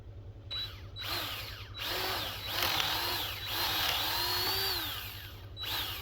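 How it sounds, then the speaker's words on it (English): A power drill whines in repeated bursts while boring a hole for a fence brace and gate, its pitch rising and falling, with short pauses between runs, close up. "So drilling the hole is just rinse and repeat."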